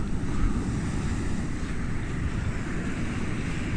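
Sea waves break and wash onto a beach, a loud, steady roar of surf mixed with strong wind buffeting the microphone, with no voices.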